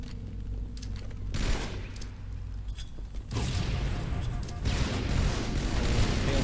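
Rapid gunfire bursts and booms from a Halo 2 match at a 2024 championship qualifier, running dense and loud throughout, with a commentator talking over the shots.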